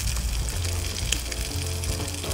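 Food browning in a pan over a campfire on a late-autumn outdoor camping trip gives a steady, close sizzle with scattered crackles and a low rumble beneath, and no voices.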